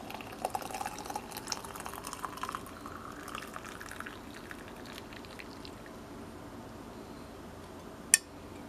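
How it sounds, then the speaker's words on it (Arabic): A boiled belly-slimming drink strained through a strainer gives a faint, steady trickle and drip of liquid throughout, with a single sharp click near the end. "بعدين يا بنات راح نصفي المشروب تبعنا على هذا الشكل"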